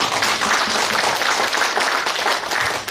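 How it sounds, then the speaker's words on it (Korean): An audience at a provincial debate forum on education development applauds warmly, with a thick, even wash of many hands clapping continuously throughout, with no talk over it. "뜨거운 박수 한번 쳐주십시오."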